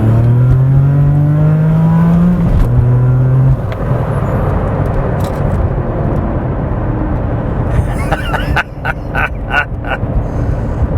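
A Porsche 911 Gemballa GTR BiTurbo engine revs loudly and close, pitch rising through gears, then settles into a rushing turbo drone with brief chirps and whooshes near the end.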